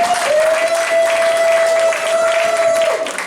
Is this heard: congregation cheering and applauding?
yes